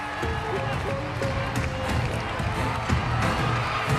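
A stadium crowd of 75,000 at the SEA Games opening ceremony in Cambodia, a dense, steady roar of cheering and clapping that fills the space, with a commentator talking over it.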